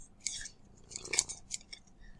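Scissors snip several times in quick, uneven succession, sharp metallic cuts close by against a quiet room.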